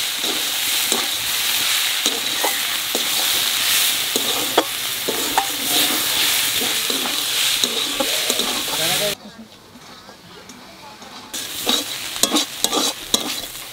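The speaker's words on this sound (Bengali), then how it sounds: "শাক ভাজা হয়ে গেছে, হানে নামাই দেবো।" Gatkol saag greens stir-fried with salt and turmeric in an iron kadai (wok) by a grandmother in a village kitchen: a steady, loud hiss and crackle with scraping stirs, briefly quieter midway before the sizzle returns.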